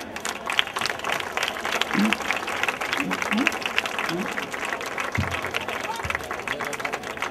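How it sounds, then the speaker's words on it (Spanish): At an evening popular-race award ceremony, a crowd applauds steadily for several seconds, a moderately distant, even wash of clapping with a few brief voices mixed in. "por la labor que ha hecho el Espique, quiero un fuerte aplauso para él."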